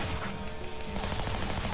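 Gunfire in the game Shank, a dense continuous burst of shots and battle noise running steadily through the whole short stretch with no talk.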